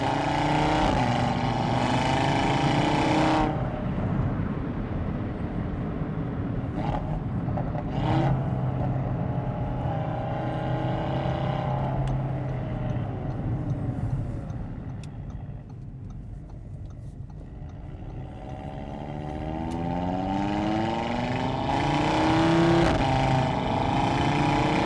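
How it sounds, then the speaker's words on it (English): A 2018 Audi RS3 Quattro engine and exhaust while driving, a steady droning growl that rises and falls as the car accelerates and eases off, heard from inside the car. "the sound from the exhaust system"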